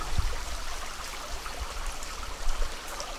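Water flows in a shallow creek with a continuous, soft, close babble and occasional small splashes, and no talking.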